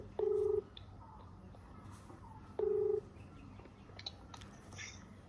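Telephone ringback tone during an outgoing prank call on a mobile phone: two steady electronic beeps about two seconds apart, faint background noise in between.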